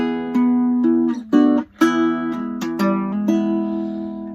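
A baritone ukulele plays a short riff alone, a string of plucked notes and strummed chords with clear sustained tones and brief gaps between phrases.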